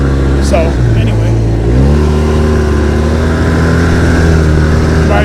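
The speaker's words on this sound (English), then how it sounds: "this snowmobile has no brakes, so coming down this hill is pretty sketchy now that the trail's all hard" A snowmobile engine runs loud and steady while riding down a hard-packed hill trail in Alaska, its tone shifting as the sled moves, with someone talking over it.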